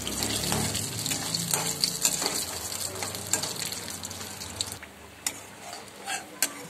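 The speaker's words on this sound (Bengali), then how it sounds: "বড়িগুলোকে আমি ভেজে নেবো, আগে ভেজে তুলে নেবো।" Lentil dumplings (bori) frying in oil in a wok: a continuous close sizzle with scattered spatula scrapes and taps that grows quieter and sparser toward the end.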